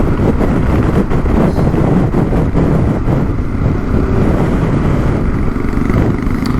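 Yamaha Tenere adventure motorcycle ridden hard on a South Australian rally route, a steady loud engine roar blended with heavy wind buffeting throughout, no voices.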